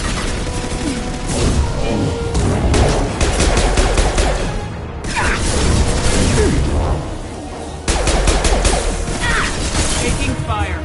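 Heavy rapid gunfire in a sci-fi battle, with machine-gun bursts, crashes and mechanical clatter, loud and nearly continuous apart from two short lulls, with voices faintly mixed in.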